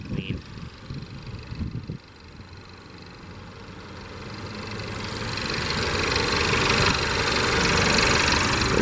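A 2015 Mercedes-Benz C300 Sport 4Matic with a 2-liter turbo four-cylinder idles steadily, a smooth low hum that swells louder over several seconds after a few brief opening thumps.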